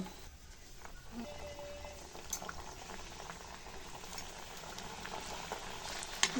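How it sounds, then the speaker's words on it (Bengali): Khaja pastries deep-frying in oil over medium heat, a steady low bubbling and sizzle throughout, quiet and even with a few small clinks near the end. "মিডিয়াম আঁচে ফ্রাই করে নেব। গোল্ডেন ব্রাউন করে ফ্রাই করে নিয়ে তুলে নেব।"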